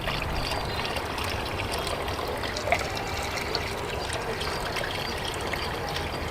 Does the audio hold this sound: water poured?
yes